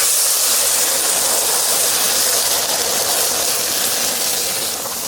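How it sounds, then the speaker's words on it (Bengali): Hot water poured onto fried mung dal in a pan erupts into a loud, close burst of sizzling steam and hiss that holds steadily and then eases slightly at the end. "সেই গরম জলটা আমি এতে ঢেলে দিচ্ছি"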